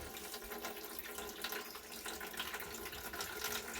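Water runs steadily from a kitchen tap while banana bread pudding is being made, a close, continuous hiss and splash with no one talking.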